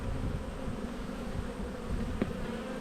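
Honey bees buzz steadily around an open hive, a dense close droning hum that is continuous and even.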